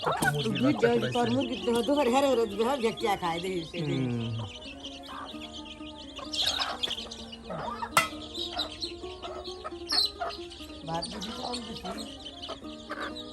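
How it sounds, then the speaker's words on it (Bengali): Chickens cluck and chicks peep in bursts nearby in a village, with people talking over and between the calls. "কত মুরগির বাচ্চা দেখুন"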